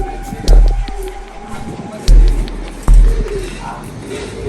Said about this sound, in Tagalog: At yung kalapati na hinuhuli po ay nandyan.